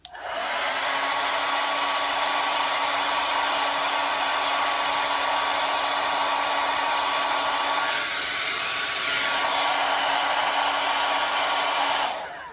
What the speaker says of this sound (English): it's nice to zap them with the blow dryer